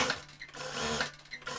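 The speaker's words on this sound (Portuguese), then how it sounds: "Então eu vou costurar direito com direito." Sewing machine joining fabric right side to right side for a jumpsuit, a steady mechanical whir running through a short burst with slight dips in speed, close and fairly quiet, with no talking.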